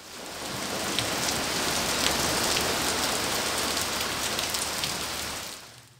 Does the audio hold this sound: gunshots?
no